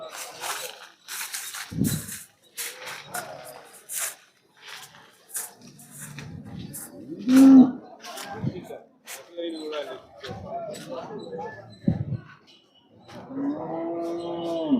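Cattle at a Jersey cow market in Punganur, Chittoor district, with several moos through the clip, one of them loud and mid-length, amid crowd chatter and someone talking nearby.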